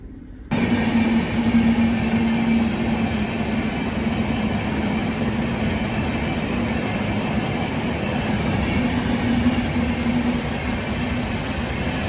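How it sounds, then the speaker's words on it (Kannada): A train rolls past close by, overtaking a halted train, a steady, loud rumble and rattle that holds for the whole stretch without a break. No voices. "ಯಾವುದೋ ಟ್ರೈನ್ ನಮ್ಗೆ ಓವರ್ಟೇಕ್ ಮಾಡ್ಕೊಂಡು ಹೋಗಿ ನೋಡ್ರಿ."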